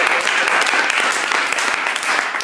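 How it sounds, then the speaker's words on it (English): A small audience gives itself a steady round of applause at the close of a morning talk session, dense clapping filling the room evenly from start to finish. "give yourselves a round of applause"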